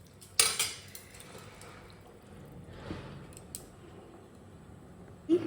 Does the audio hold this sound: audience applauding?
no